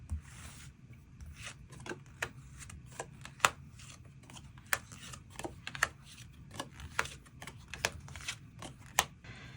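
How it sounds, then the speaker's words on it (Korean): Tarot cards shuffled and drawn one by one, giving a quiet run of short papery snaps and flicks at an irregular rhythm over a soft rustling background, close and fairly faint with no talking. "추가 카드 뽑아보도록 하겠습니다"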